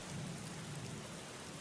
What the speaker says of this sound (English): before it started to rain.